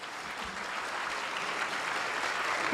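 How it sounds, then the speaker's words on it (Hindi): Audience clapping at a Guru Purnima programme, a dense, even wash of applause held at steady loudness throughout, with no voices over it. "तो इसलिए आपके लिए तालियां।"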